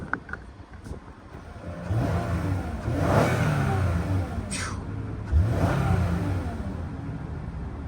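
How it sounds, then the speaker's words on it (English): A car engine revs up twice on an auction lot, each rise swelling to a loud mid-pitched roar over a steady idle, heard close with no talking. "let's give it a little rev, see how it sounds"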